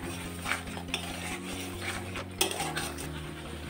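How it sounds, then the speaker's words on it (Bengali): Spice paste with a splash of water frying in a pan for broccoli paneer curry, stirred with a metal spoon that clinks and scrapes against the pan over a low, steady hum and gentle sizzle. "এইবার ভালো করে আমি আরেকবার কষিয়ে নেব।"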